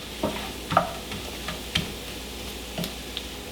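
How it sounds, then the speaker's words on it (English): Almond slices toast in burnt butter in a pan at medium-high heat, a faint crackling sizzle broken by scattered light ticks and taps. No one speaks. "some of the almond slices are starting to get brown as well. They're toasting right now."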